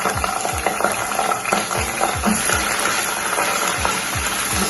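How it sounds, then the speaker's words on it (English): Gizzard and vegetables sizzle steadily in a pan over high heat for a stew, with a continuous frying hiss and repeated low clanks and scrapes of stirring at a regular beat, close and fairly loud. "It's really frying nicely."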